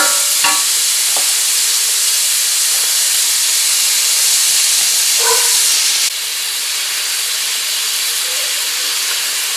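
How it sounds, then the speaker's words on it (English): Ground beef browning in a pan for a cottage pie, a loud, continuous close sizzle and hiss with a few faint stirring knocks and no talking. "just fry up the ground beef until it's nice and brown all over"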